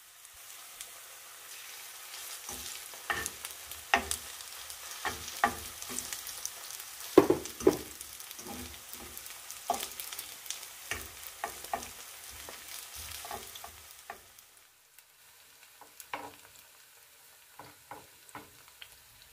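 A potato mixture fries gently in oil in a pan, shaped into nests, giving a soft, continuous sizzle with scattered crackles and pops throughout.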